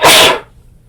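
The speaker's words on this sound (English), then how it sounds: "I'm going to sneeze." A single loud, sharp sneeze bursting out, then trailing off into quiet.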